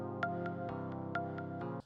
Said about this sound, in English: but now we're gonna do the soft pluck. Sounds like this.